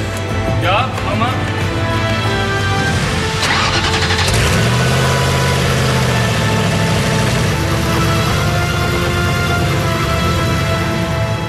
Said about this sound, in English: We start the engine for the first time.